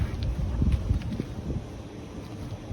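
Wind buffets a microphone outdoors beside solar panels, a continuous low rumbling roar with gusty swells and no talk.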